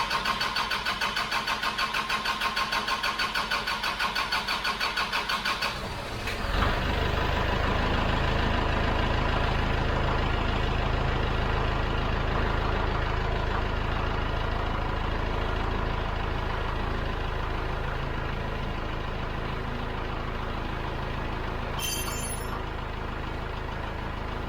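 A Kubota tractor engine cranks with a rapid, even churning rhythm for several seconds, then fires and settles into a loud, steady close-up idle.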